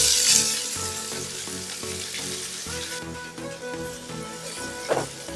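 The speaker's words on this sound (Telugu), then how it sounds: "ఇప్పుడు కలుపుకుంటా ఫ్రై చేసుకోవాలి ఇవి ఉల్లిపాయలు బాగా యాగాలన్నమాట" Sliced onions and split green chillies fry in hot oil for egg curry, giving a steady close sizzle and crackle that holds throughout, with a brief stir near the end.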